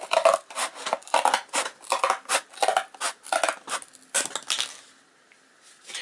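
Scissors snip through cardboard being cut out to make a fence for an OO gauge model railway, with a run of close, crisp cuts in an uneven rhythm that stop before the end.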